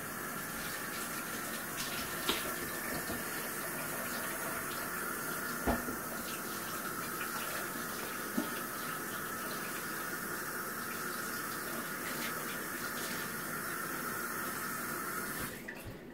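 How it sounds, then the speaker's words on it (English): Tap water runs steadily into a sink while hands are washed, a continuous close rushing splash with a few small knocks. "Okay, wash hands."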